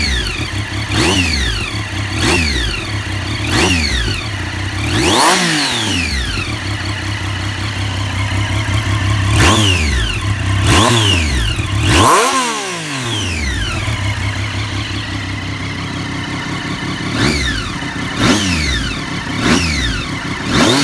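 Triumph Daytona 675 motorcycle on its stock exhaust, idling and then blipped through a series of sharp, loud revs that rise and fall quickly, with a few deeper pulls near the middle, all heard up close with no talking.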